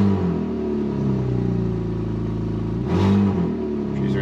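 A Saturn VUE engine idles steadily, then revs up briefly under throttle and settles back, loud and close with no talking.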